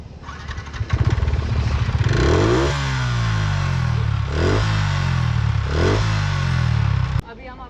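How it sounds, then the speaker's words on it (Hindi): A Yamaha R15 V3 motorcycle starts and revs close by, rising in pitch three times with a stock exhaust note before cutting off abruptly; no talking. "अब हम सुनाते हैं आपको अपने भाई की R15 V3 की"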